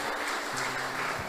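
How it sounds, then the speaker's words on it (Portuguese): A church congregation applauds during a worship service, a dense, steady wash of many hands clapping together, filling the room without pause. "dá uma salva de palmas para Jesus, por favor. Aplauda o Senhor."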